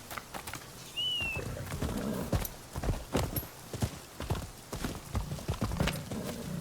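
Horse hooves clip-clopping in an uneven walking rhythm while riding in the video game Rise of Ronin, with a brief bird chirp early on and quiet ambience.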